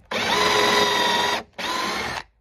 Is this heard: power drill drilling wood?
yes